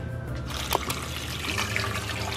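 Vinegar is poured over basil leaves in a bowl, making a continuous trickling, splashing liquid stream at close range, steady and moderately loud for a few seconds.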